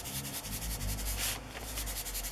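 A distressing tool scrapes along the paper edges of a fabric journal, giving a soft, close, continuous rasping rub in short repeated strokes.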